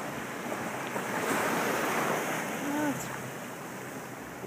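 Big ocean waves roll and wash through the surf in a steady, broad roar, with wind buffeting the microphone and a brief voice faintly heard.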